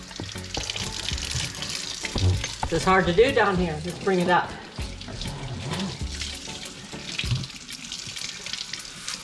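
Hot water runs from a sink tap over hands in a steady, hissing splash. A person speaks briefly over it midway.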